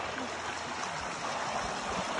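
A mountain stream on a camping trek, its water rushing in a steady, hissing flow that fills the whole short moment at moderate volume with no voices.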